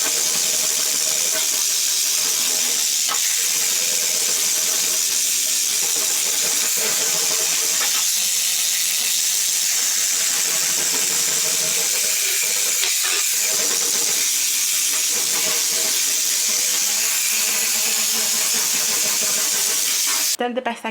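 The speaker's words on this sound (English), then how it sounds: "I'm going to get my scrubber, my sonic scrubber, and hopefully that can speed up the process" Sonic scrubber working on an oven grill coated in Elbow Grease spray, a continuous high hissing, whirring buzz with intermittent scraping squeals, steady and close throughout.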